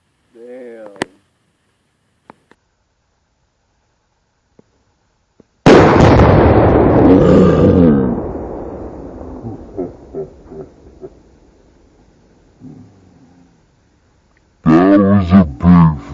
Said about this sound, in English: That was a big fucking explosion.